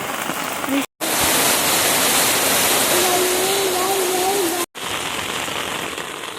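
Heavy monsoon rain pours over a flooded village, making a dense, loud, continuous hiss of falling water and runoff, broken only by two very brief cuts.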